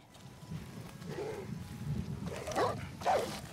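Dog barking in the video game Far Cry 6, a few short barks heard over steady background game ambience, with a storm approaching in the scene.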